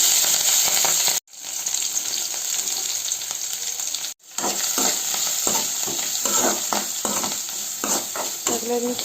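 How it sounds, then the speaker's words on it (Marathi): Mustard seeds tempering in hot oil, with curry leaves and turmeric, for a jackfruit bhaji. A loud, continuous sizzle and crackle runs close up throughout, with two brief cuts to silence and no talking. "आमचे तेल तापत येयल्ले आहा, तितून आमी सासवाची फोडणी दिवया"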